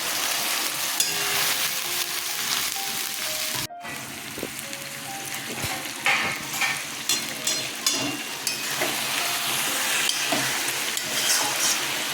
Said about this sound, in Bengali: এবার আমি এখানে তেলে এটা ছেড়ে দেবো